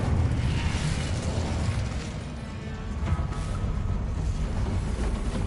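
An Incendio fire spell in the video game Hogwarts Legacy roars as a sustained, loud, blasting whoosh with crackling bursts, filling several seconds with a steady rumble.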